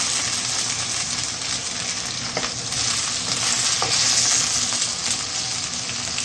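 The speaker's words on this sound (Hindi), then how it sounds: "आलू को फ्राई करना है।" Small diced potatoes fry in hot oil with white cumin, giving a continuous loud sizzle with soft stirring scrapes and no voices.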